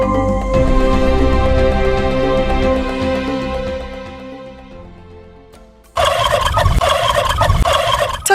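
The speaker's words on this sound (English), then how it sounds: "Turkeys are large birds that belong to genus Milagris" Farm turkeys gobble loudly in a rapid, warbling chorus, a long gobble fading out, then a sudden burst of more gobbling close by.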